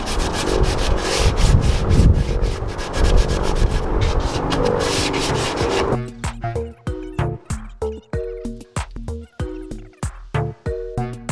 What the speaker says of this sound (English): I'm using 220 so I can go over the flat surfaces, and it really only takes it off the edges